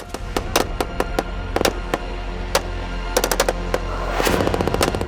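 Machine guns fire in rapid bursts during a gunfight between Taliban and Afghan forces, with sharp, loud cracks at irregular intervals and a denser stretch of fire near the end. No one speaks.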